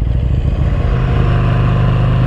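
A motorcycle engine revs loud and close in a short, continuous burst, a throbbing rasp with a slight rise in pitch.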